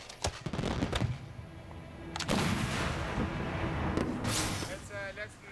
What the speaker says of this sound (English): Each mortar shoots a single fireworks shell up into the sky.